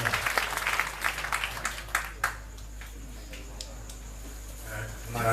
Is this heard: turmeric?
no